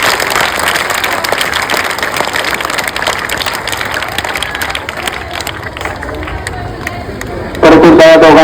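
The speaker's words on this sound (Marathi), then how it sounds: "सर्वांनी जोरदार टाळ्या वाजवायच्या या दोघांसाठी" Audience clapping for two students at a school event in Mohol, a dense continuous wash of applause with crowd babble throughout, growing louder and brighter near the end.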